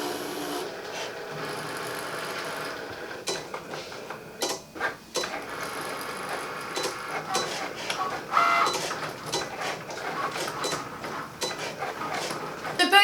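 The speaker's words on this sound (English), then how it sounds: "I'm going to go ahead and press cut on both machines, and you'll see that one will start before the other, but they will both then cut." Two Cricut cutting machines, a Maker and an Air 2, cutting at once, giving soft mechanical whirring with scraping and rubbing passes and small clicks that come and go over about thirteen seconds.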